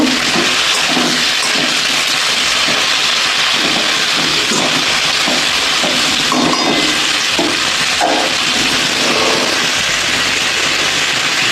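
Pumpkin and tomato pieces fry in a hot pan with a steady, loud sizzle and crackle that runs the whole time, broken by occasional stirring scrapes and no talk.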